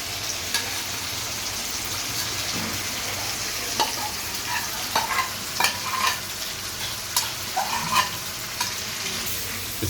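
Chicken pieces sizzle steadily in a hot pan during home cooking of chicken bhuna, while a utensil stirs them with repeated scraping clicks and knocks. No one speaks.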